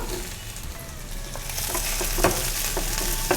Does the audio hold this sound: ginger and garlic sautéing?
yes